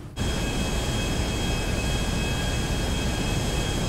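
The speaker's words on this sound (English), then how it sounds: "Let's start the next plane" Aircraft engine in GTA 5 starts abruptly and settles into a loud, steady jet-like roar with a high whine, running constant and close throughout with no talk.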